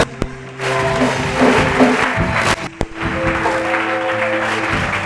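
A church congregation at a night vigil breaks into sustained applause and cheering in acclaim, loud and close, with a steady tonal drone of music or organ underneath and a couple of sharp knocks at the start and middle.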